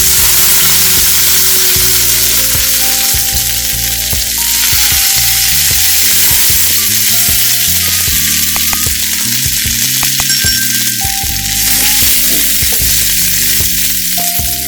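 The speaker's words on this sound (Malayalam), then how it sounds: "എണ്ണ ചൂടായി. 1 ടീസ്പൂൺ കടുക്, ഒരു 4 വറ്റൽമുളക്, അല്പം കറിവേപ്പില," Mustard seeds, four dried red chillies and curry leaves fry in hot oil as a tempering for Kerala-style ripe banana kalan, a loud, continuous crackling sizzle with spitting pops throughout, under soft background music.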